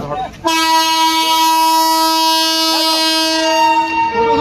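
A train horn blares loud and close at Dildarnagar railway station, one long sustained harmonic blast held for about four seconds with a wavering pitch near the end, after a brief moment of platform noise.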